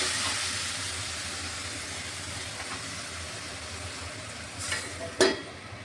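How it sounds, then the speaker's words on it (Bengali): Boiled potatoes with skins on being fried in a pan for a curry, a steady sizzle with scraping stirring, and a couple of sharper clatters near the end. "এখন একটু ভাজা ভাজা করে নিচ্ছি"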